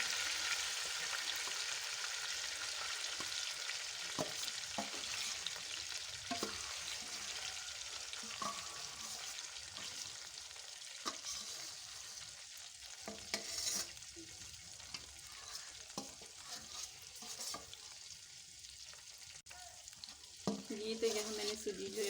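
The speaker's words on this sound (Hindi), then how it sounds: "घी हमारा गर्म हो चुका है। अब मैं इसमें सूजी डाल देती हूँ।" Semolina fries in hot ghee as a spoon stirs and scrapes through it, giving a steady soft sizzle broken by irregular clinks and scraping strokes throughout a long stretch with no speech.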